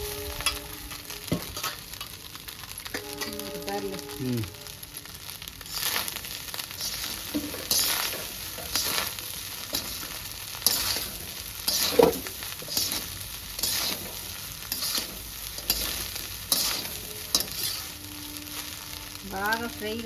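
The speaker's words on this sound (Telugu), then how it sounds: "బాగా ఫ్రై కావాలి రైస్ కూడా" Rice being fried for chicken egg fried rice, street style, with a continuous sizzle and repeated rhythmic stirring and scraping of a pan, plus occasional short tonal squeaks.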